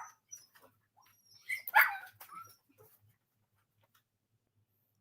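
Puppies give a short, faint burst of barking and whimpering near the middle, surrounded by near silence with a few soft scattered noises.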